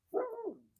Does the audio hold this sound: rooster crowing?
no